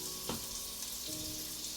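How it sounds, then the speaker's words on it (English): Plant-based burger patties sizzle steadily in a skillet, giving a soft hissing fry. A faint stir or scrape breaks in briefly at the start, and no voices are heard. "we have the plant-based patties into the skillet"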